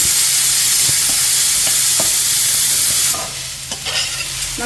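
Food frying in a pan for cherupayar erissery or papaya thoran is stirred steadily, a loud continuous sizzle with repeated scraping strokes that softens toward the end.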